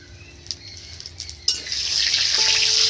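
Cardamom, mace and cloves dropped into hot oil burst into a loud, steady sizzle halfway through, after a few faint clinks and stirring sounds at the start; the crackle stays bright and continuous to the end.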